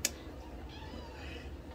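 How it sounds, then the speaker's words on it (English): An indoor house cat lets out a loud meow against quiet room noise, close and alone, with no talking over it. "Sorry, the cat's yelling at me."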